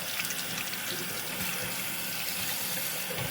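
Tap water runs steadily while rinsing a Barbie doll's hair, a constant close splashing hiss with no break.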